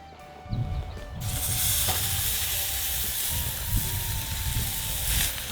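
Loud, steady sizzling of meat hitting a hot grill, a broad hiss that bursts in after a brief quiet start and continues crackling throughout.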